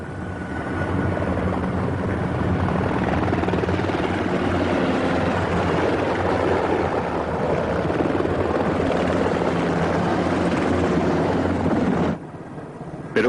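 A modern military helicopter flies past with a loud, sustained rotor and turbine roar that holds steady before dropping away abruptly near the end.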